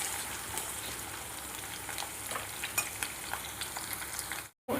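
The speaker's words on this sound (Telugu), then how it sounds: "తర్వాత ఇవన్నీ గోల్డెన్ రంగు వచ్చే వరకు బాగా వేపుకోవాలి" Green chillies and tempering spices sizzle and crackle in hot oil while being stirred until golden, with a steady close frying hiss, occasional pops and a brief cut to silence near the end.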